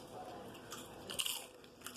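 Crunchy bites into a homemade tortilla chip snack, a few quick crisp crackles up close, with the sharpest crunch in the middle, over a faint room background.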